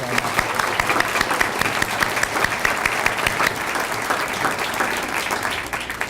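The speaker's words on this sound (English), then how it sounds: "So I'd like to give our customers a little round of applause today." Audience applause at a Choose Chicago tourism event, a dense, loud, continuous burst of many hands clapping with no voices over it, holding steady for the whole stretch.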